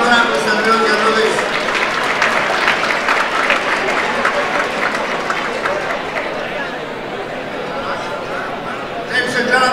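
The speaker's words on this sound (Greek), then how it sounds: "χειροκρότημα" A Greek Independence event audience at a Hilton in New York applauds an opera singer, loud sustained clapping from a large crowd that fades slightly toward the end, with chatter underneath.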